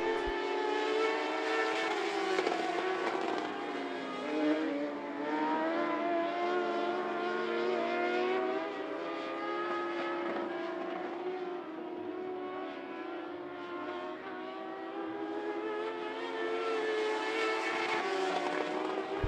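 Modified race cars roar down the back straightaway at I-75 Raceway, a loud, continuous pack of engines with rising and falling harmonic whine as the cars pass, sustained throughout.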